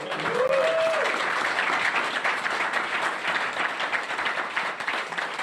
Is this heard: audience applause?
yes